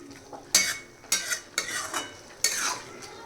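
Palak bhaji, a spinach dish, stirred in a pan with a spoon: four close scraping strokes with soft sizzling between them and no voices.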